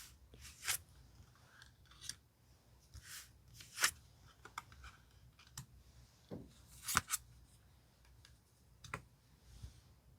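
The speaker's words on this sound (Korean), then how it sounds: "카드 5장을 선택해 볼게요" Tarot cards are shuffled and picked out in a quiet room, giving sparse, crisp papery flicks and snaps spaced irregularly across the stretch, close by with no voices.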